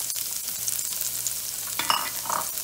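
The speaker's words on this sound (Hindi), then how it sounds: "इसमें मैं प्याज डाल देती हूँ।" Onion fries in melted butter in a nonstick pan, a close steady sizzle with a couple of quick stirring scrapes near the end.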